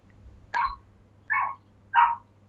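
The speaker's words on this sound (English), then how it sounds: "How do you stop dogs barking?" A dog gives three short, sharp barks at a steady pace, moderately close, over a quiet low hum with no talking.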